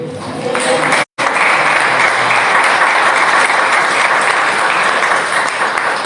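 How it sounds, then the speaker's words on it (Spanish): A church congregation in Campeche applauds loudly, a dense, steady wash of clapping that cuts out for an instant near the start before carrying on unbroken. "Le pueden dar un aplauso a Cristo."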